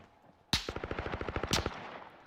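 Rapid automatic gunfire in a competitive esports video game match, a loud burst of about fifteen evenly spaced shots opened and closed by sharper blasts, with no talk over it.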